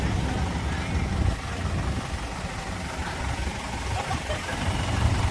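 A tour bus engine idles with a steady, rough low rumble that stays close and constant throughout, with faint background noise.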